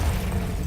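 A single brief, booming blast from the Confringo spell in a Hogwarts video game, dense and loud, lasting under a second.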